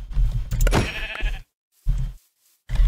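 Sheep bleating in the Minecraft video game: a loud, close bleat followed by two shorter bleats separated by silent gaps, with no talking over them.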